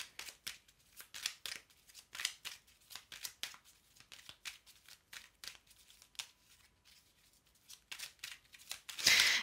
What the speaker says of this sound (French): Je vais encore remettre des cartes,